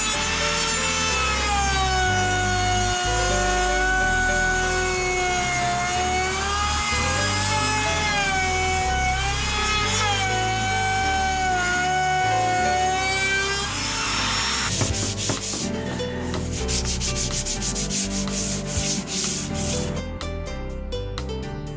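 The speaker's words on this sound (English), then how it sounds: "I'm going to round the edges using my router." A handheld router rounds over the edge of a small wooden end table top with a steady, close, high whine for about fourteen seconds. Scraping and rubbing noises follow.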